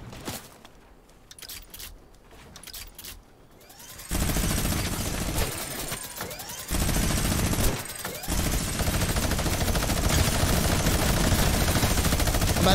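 Minigun fire in Fortnite: after a few seconds of sparse scattered shots, a sustained, loud rapid-fire stream of gunfire roars almost continuously, with short gaps between long bursts.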